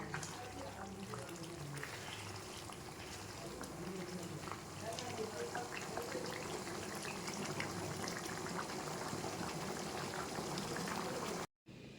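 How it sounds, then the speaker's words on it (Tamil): A pot of green pea and potato kurma curry bubbles at a steady rolling boil, a continuous close churning of liquid that cuts off briefly near the end. "இப்போ குழம்பு நல்லா கொதிச்சிருச்சு"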